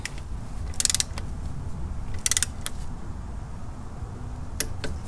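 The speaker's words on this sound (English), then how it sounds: "All right, back to the torque wrench." Torque wrench tightening the supercharger nose cone bolts on a Toyota 5VZ-FE 3.4L V6 TRD supercharger, giving a couple of short bursts of ratcheting clicks and then a few sharp single clicks over a quiet garage background.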